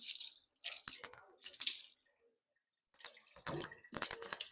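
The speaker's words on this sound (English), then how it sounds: "We'll give that a quick rinse." Short bursts of running water splash over a saltwater pool system's salt cell part as it is rinsed, several splashy pulses separated by a brief pause, close and fairly quiet.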